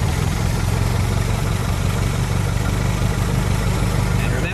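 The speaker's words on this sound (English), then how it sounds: "just step on the starter" A Ford Model T engine cranks over on the starter and settles into a steady, loud, close idle with a rhythmic low chug throughout.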